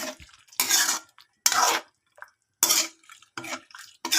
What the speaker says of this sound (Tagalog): Halo-haloin natin at patuyuin